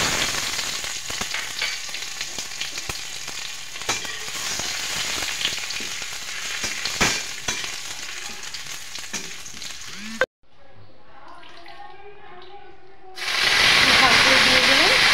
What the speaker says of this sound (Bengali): কড়াইতে দিয়ে দিলাম তেল, আর তেলও প্রায় গরম হয়ে গেছে। এখন আমি ফোড়নটা দিয়ে দেব।